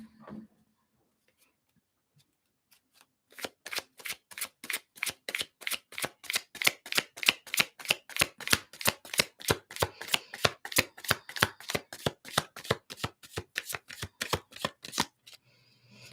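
A tarot deck is shuffled close up, a long run of crisp, evenly spaced card slaps and riffles building after a quiet start, with no talking.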